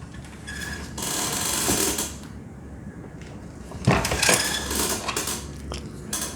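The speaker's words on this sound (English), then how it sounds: "So into the final crimp." A Lee Load All II press crimping a Remington Nitro 27 12-gauge shotgun hull: continuous grinding, rattling mechanical noise with a sharper metallic clunk midway, close and fairly loud.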